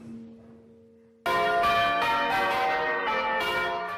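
Church bells pealing on a Sunday, heard loud and close as a full ring bursts in after a faint quieter hum, then continues in overlapping clangs.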